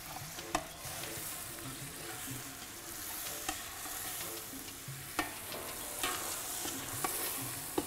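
Onions sizzle and fry steadily in a pan with no added ingredients, a dense crackling hiss that runs throughout, punctuated by a few sharp clinks of a stirring utensil against the pan.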